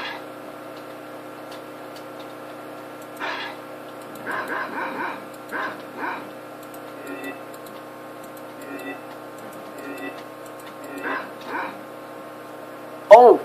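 Video game dog sounds from Garry's Mod, short yips and barks scattered across the clip over a steady background hum, at moderate level.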